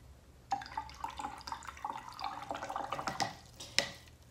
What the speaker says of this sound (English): I'm splashing some more water there